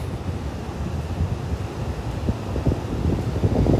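Sea waves wash steadily onto Boracay beach during a tropical storm at low tide, a continuous rough surf roar mixed with gusty wind noise on the microphone, no voices.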